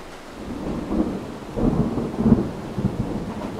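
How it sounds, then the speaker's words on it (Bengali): Thunder rolls across a stormy night sky as a low, continuous rumble with swelling peaks, mixed with a steady wash of rain; no voices are present. "শুধু বিদ্যুৎ কড়কড় করে বাজ ডেকে উঠল আকাশের এ মাথা থেকে ও মাথা পর্যন্ত গড়িয়ে ডাকতে ডাকতে ছুটল"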